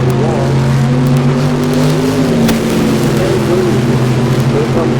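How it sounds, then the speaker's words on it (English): A drag racing dragster engine at a bracket race event, a loud sustained engine roar with shifting harmonic tones throughout, heard under a track announcer's commentary amid a steady wash of crowd and ambient noise. "Here comes the dragster"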